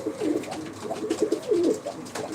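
Game pigeons of the Ankara breed coo repeatedly in soft, low, rolling phrases, close by, with a few faint chirps in the background and no talking.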